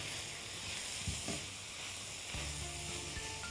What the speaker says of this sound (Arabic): خليني اضيف المشروم بقى دلوقتي هنا، نضيف المشروم كده تقليبتين